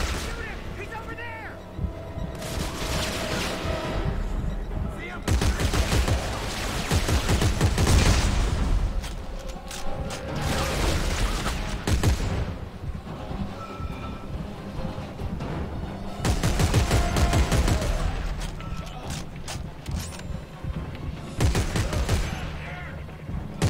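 Gunfire in Dead Space 3, rapid bursts of shooting and blasts coming in several loud waves separated by quieter gaps, with voices talking over parts of it.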